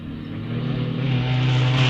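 Racing car of the 500 Owners Association climbing the Wiscombe Park hillclimb course, its engine note rising steadily and growing louder, a continuous close-range roar with no talk.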